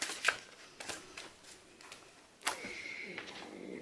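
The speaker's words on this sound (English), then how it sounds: "So we shuffle our prompt cards" A deck of prompt cards shuffled by hand at a board game table, giving a few soft riffling bursts and light taps, close and quiet, with a brief louder riffle near the end.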